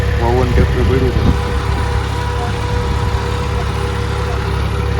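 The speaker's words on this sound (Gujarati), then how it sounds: "જોવો આ લસણ વાવવાનું ટ્રેક્ટર પડ્યું છે." A tractor used for sowing garlic runs with a steady low engine drone throughout, while a person talks over it during the opening seconds.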